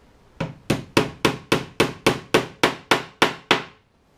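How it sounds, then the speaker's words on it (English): Eleven sharp, evenly spaced taps of a small track hammer striking metal while fitting O gauge model railway track flush, ringing briefly after each blow, close and crisp with no talking. "It's my track hammer."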